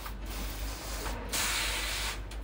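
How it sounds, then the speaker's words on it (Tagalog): Water hose or sprayer hissing as a dog is bathed, a loud close continuous spray with brief pauses and surges, no talking. "Ayan, isprayan natin siya."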